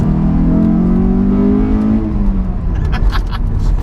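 A Honda S2000 sports car engine revs hard to its 9,000 RPM rev limiter, its pitch sweeping steadily upward into a high, loud whine before easing off with a crackle.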